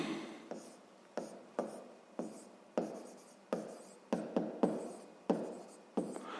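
A pen writes by hand on paper, close and fairly quiet, in a series of short scratchy strokes with sharp onsets and fading tails, a dozen or so in an uneven rhythm, with no talk.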